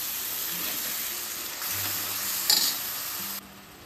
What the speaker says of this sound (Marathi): कांदा आणि टमाटरची पेस्ट टाकणार आहे यामध्ये मी. आणि हे चांगलं फिरून घेणार आहे.